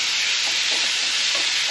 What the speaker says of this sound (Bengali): সেটাকে ভালো করে ভাজতে হবে